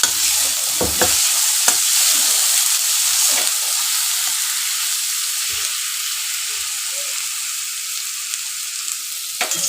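Ground garlic paste frying in a pan, producing a steady, bright hissing sizzle that runs continuously, with a few low knocks and stirring sounds near the start.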